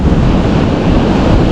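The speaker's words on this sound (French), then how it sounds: "Trop de vent." Strong wind buffets the microphone on a seawall during surfcasting, a loud, steady roar blended with the wash of surf and ocean waves, with no voices.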